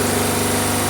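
A large wooden boat's engine, a Nissan B10 six-piston diesel, drones steadily and close for under a second, with no pauses or talk.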